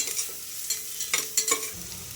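Onions fry in a pan while being stirred, giving a soft sizzle broken by several sharp scraping and clattering strokes from the spoon, close and without talk.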